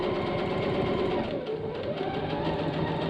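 Sewing machine stitching quilting lines through a jacket, a steady continuous whir with a faint rhythmic pulse, close and constant throughout, with no voices over it.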